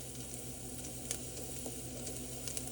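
Garlic fries in a pan with a faint, steady sizzle and occasional tiny pops over a low background hum.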